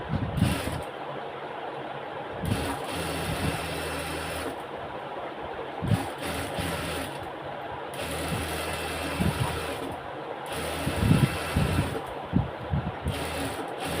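A sewing machine stitches lace onto fabric for a coat, running in several bursts of rapid mechanical chatter separated by short pauses, moderately quiet and close.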